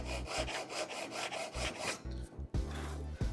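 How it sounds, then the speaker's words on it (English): A metal file rasps across the lip on the front edge of metal splashback trim in repeated quick back-and-forth strokes, close and steady, with a short pause before the final strokes. "take our file, and we're just going to file out this little lip on the front edge"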